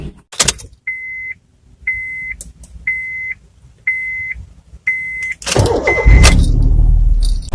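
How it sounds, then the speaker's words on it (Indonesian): A Honda Jazz RS GE8 hatchback with a Honda L-series engine sounds a run of five evenly spaced warning beeps, then the starter cranks and the engine catches into a loud, steady idle close by. "langsung saja kita dengarkan suara startup dari si Honda Jazz ini"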